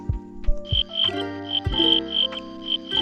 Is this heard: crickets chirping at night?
yes